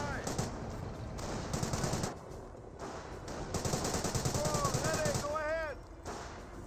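Close-range gunfire in the World War II strategy game Company of Heroes, with rapid machine-gun bursts and scattered shots under continuous talk, plus a few whistling sweeps near the end.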